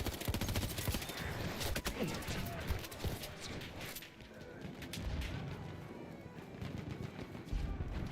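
Rapid bursts of Lewis machine gun fire in Battlefield 1, dense crackling volleys mixed with distant gunfire and booms across a busy battlefield, with faint voices underneath.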